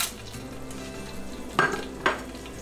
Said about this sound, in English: I'm going to temper the oil with these whole spices for around 15 to 20 seconds